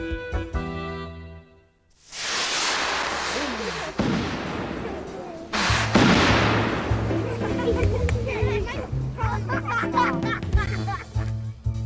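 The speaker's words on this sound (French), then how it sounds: "les fusées ne gardent pas toujours le bon cap" Loud whooshing firework rocket launches and bursts, several in succession, with crackling and scattered voices and laughter around them.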